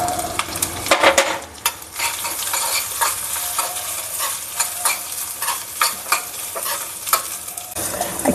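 Grated coconut roasting in a pan for moong dal kheer, with steady sizzling and repeated scraping, stirring strokes of a spoon against the pan, loud and close with no talking.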